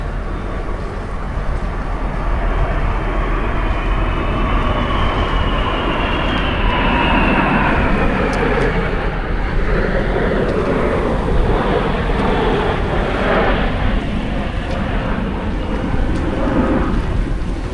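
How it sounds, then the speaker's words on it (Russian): Roar of two pairs of fighter jets passing low over a sailboat off the Spanish coast near Cádiz, a broad loud rumble with a rising whine that fills the whole stretch and swells toward the end. "А вот и истребители летят. 2 пары."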